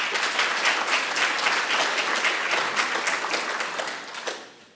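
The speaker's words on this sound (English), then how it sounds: "Another round of applause for Kian." Audience applause at a general meeting after a speaker's session, a dense burst of clapping that stays full for about three seconds, then thins and fades out toward the end.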